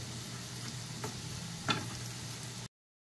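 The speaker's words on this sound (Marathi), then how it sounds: "ह्या मिरच्या घेतलेल्या आहे मी त्या मी घालत आहे" Green chillies go into a hot pan for palak paneer, giving a steady close sizzle with a couple of brief stirring clicks before the sound cuts off abruptly.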